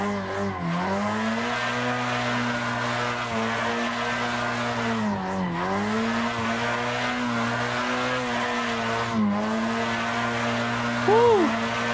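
Drift car in Assetto Corsa with a steady, droning engine note that dips briefly at three gear changes, ending with a short rising tire squeal near the end; someone talks over the engine at times.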